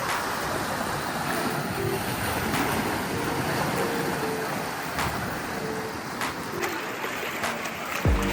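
Sea waves at Harihareshwar beach, a continuous broad wash of surf and rushing water mixed with wind buffeting the microphone, steady and fairly loud with no clear speech.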